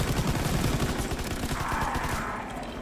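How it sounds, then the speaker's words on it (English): A machine gun in Call of Duty WW2 online zombies mode fires a loud, continuous rapid burst. The shots rattle close and dense, then ease slightly near the end. "And I'm glad I have the MG now."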